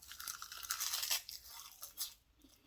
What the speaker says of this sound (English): I like to eat like this many at once. The crunch.